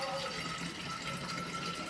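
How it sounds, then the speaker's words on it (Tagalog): Drinking water runs steadily from a tap into bottles, a continuous broadband hiss and splash that fills the whole stretch, with faint voices underneath. "na nilalagyan niya yung mga tubig eh, no? tubig inumin tapos lalagay sa freezer"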